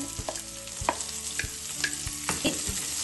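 Garlic and ginger sizzle in hot oil for a Kerala-style fish curry, a steady frying hiss broken by clinks and scrapes of a stirring spoon against the pan, close and continuous with no talking.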